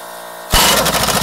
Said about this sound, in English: I can also use my air tools, my power tools to lift that.